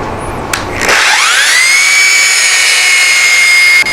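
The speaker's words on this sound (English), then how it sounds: "you're moving your sander back and forth that you're hitting everything just right." A power sander works a tapered wooden leg, spinning up after a brief clatter into a loud, steady high-pitched whine that holds until a short dip at the end.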